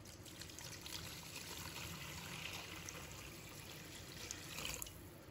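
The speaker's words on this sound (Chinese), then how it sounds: "倒入清水" Clean water pours steadily into a basin of raw pork ribs, a soft continuous splashing trickle that stays faint and even throughout, with no voices.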